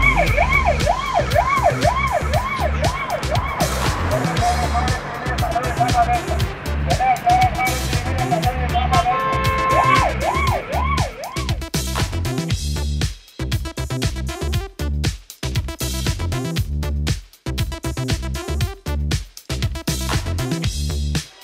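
Ambulance siren sounding as the vehicle moves through street traffic, wailing up and down loudly at the start and again midway, mixed with music and a dense, busy sound bed that breaks into choppy bursts later.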